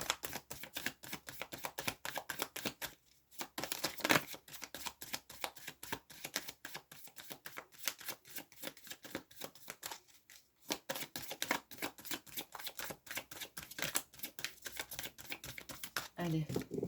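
Tarot card deck being cut and shuffled, a dense run of rapid close card flicks and riffles with short pauses, while a voice speaks softly over it.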